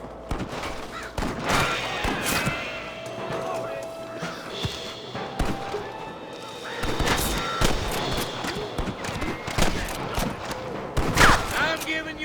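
Gunfire rattles through a Red Dead Redemption shootout, sharp repeated shots in irregular bursts, some near and loud, over background noise with voices calling out in between.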